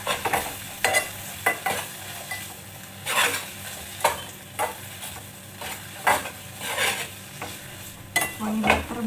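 Corned beef frying in butter in a pan: a steady close sizzle broken by repeated scraping and clinking stirring strokes with a utensil, with no one talking.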